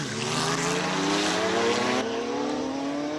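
Ferrari 488 GT3 race car climbing a hillclimb course in Cape Town, its engine note rising steadily through the gears as it pulls hard uphill, loud and sustained with a continuous roar and no talking.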